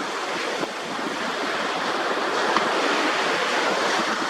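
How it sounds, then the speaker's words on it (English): Wind blows steadily across a waterfront with boats nearby, a constant loud broadband rush like surf and microphone buffeting, with no talking. "The wind is blowing from behind me actually."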